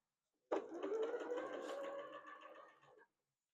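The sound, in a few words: sewing machine stitching quilt fabric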